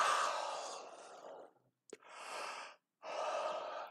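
A person gives a deliberate, close-up yawn: a long, breathy drawn-out inhale, a short pause, then two more airy breathing bursts, with no words.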